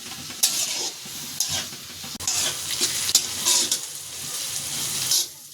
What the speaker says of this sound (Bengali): পেঁয়াজ আর কাঁচামরিচ কুচিগুলো একটু ভালো করে ভেজে নেব।